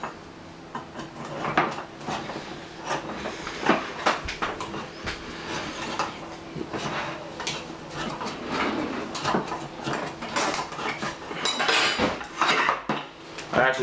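A freshly baked granola chocolate cake is worked out of its metal baking pan, with repeated clanks, scrapes and taps of utensil against pan throughout, close and fairly quiet, and people talking briefly.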